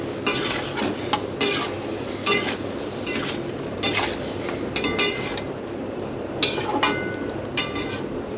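Hilsa fish curry with eggplant and torn green chillies being stirred and sautéed in a pan, repeated metal spatula scrapes and clinks over a low steady sizzle, no voices.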